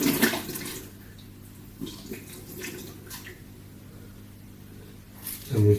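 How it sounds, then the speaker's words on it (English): A filter sponge from an Aquatropic 110L aquarium being squeezed into a bucket of water, with close splashing and gushing at the start and end and quieter trickles and drips between. "I'm just going to squeeze this sponge."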